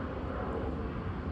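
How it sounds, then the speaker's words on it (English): LAPD helicopter flying overhead, a steady broadband rotor and engine drone that holds at an even, fairly loud level throughout the short stretch, with no talk over it. "that LAPD helicopter flying overhead right now"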